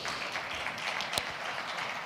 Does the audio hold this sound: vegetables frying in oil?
no